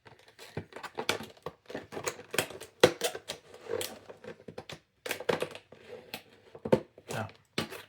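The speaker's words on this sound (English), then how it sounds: "So I'll just try and cut it through the back." Blade cutting through the back of a cardboard box holding a brand new Nokia 2285 phone, a series of irregular crisp cracks, scrapes and tearing bursts, close and fairly loud with short pauses between them.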